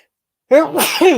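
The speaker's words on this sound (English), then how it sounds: "Sorry, I had to sneeze." A single loud sneeze bursts out after half a second of silence, close and sharp, with a short breathy tail.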